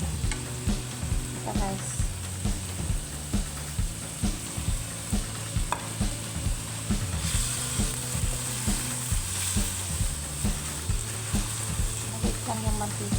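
Beef bacon and green chili fry in oil in a pan, a loud steady sizzle broken by rhythmic spatula scrapes and clacks throughout, with a brief spoken remark near the start.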